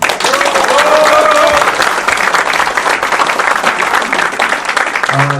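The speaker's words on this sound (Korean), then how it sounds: "동의하신다면 박수 한번 주십시오" Loud, dense applause from an audience at a Korean Reform Party (Gaehyeok Sinitdang) founding event, a steady wash of many hands clapping together without letup, close and filling the room.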